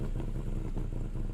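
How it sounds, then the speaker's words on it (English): The Corris Rivett car in the video game My Winter Car idles with the choke out, a low, steady, slightly rough engine rumble heard alone. "Yeah, it's idling a little bit better with the choke out."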